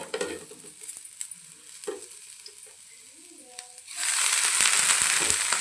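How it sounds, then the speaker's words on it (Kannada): Onions frying with coriander and mint for a vegetable biryani give a soft sizzle and occasional stirring, which swells into a loud, steady hiss near the end. "ಸ್ವಲ್ಪ ಈರುಳ್ಳಿ ಕೆಂಪಾಗಿರ್ತದೆ ನೋಡಿ, ಈ ಥರ ಹುರ್ಕೋಬೇಕು."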